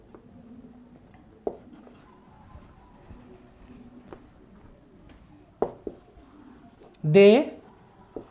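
A pen scratches on paper in short, separate strokes, near and quiet, in a quiet room, with brief spoken words now and then.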